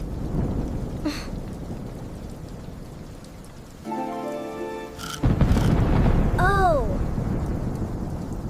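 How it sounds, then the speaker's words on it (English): Steady rain patters throughout while thunder booms and rumbles partway through; a voice briefly exclaims. "it is thunder."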